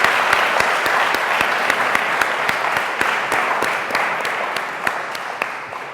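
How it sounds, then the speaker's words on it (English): An audience at an election debate in a college hall applauds for six seconds, a steady crowd of clapping hands with distinct sharp claps from someone close by, gradually easing off. "A round of applause,"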